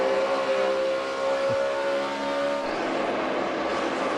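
NASCAR stock cars race at Darlington in the Southern 500, a loud sustained engine roar with a steady high whine that shifts in pitch as cars pass, with no talk.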